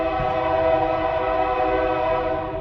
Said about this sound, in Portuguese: SD70 urrando aqui, vai passar ponto 8 e buzinando até.